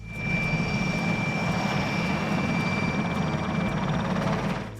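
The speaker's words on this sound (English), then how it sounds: "The distinctive rotor sound heard when Hind helicopters appear in Rambo III" Steady, loud engine and rotor drone of a Soviet Mi-24 Hind helicopter from Rambo III, a continuous broadband roar with a faint whine, alone without voices.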